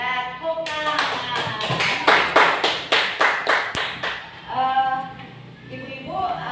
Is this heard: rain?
no